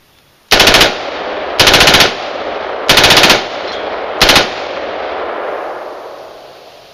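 An assault weapon fires four loud, close automatic bursts, each about half a second long, with short pauses between them and a long echoing tail after the last burst.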